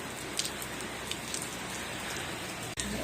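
Steady rain falls outdoors, a dense continuous hiss of drops striking surfaces, with a few sharper drips standing out and a brief dip near the end.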